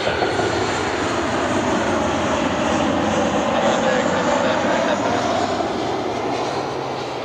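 American Airlines jet at Cleveland Hopkins airport, its engines giving a loud, steady, continuous roar that holds evenly throughout without any break.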